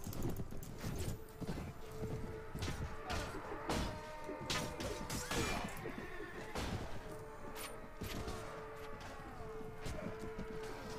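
Horses gallop with steady clip-clop hoofbeats in the Mount & Blade Warband mod A Clash of Kings, set in a desert, mixed with sharp combat crashes and impacts in a busy, continuous battle din.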